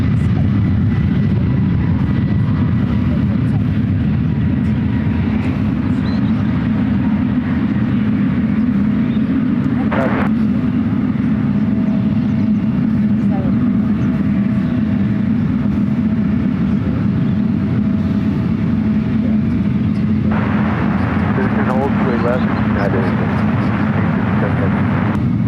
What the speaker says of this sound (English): 777-200ER as well as the 777-200. Flight heading to Reagan National and rolling down to one right.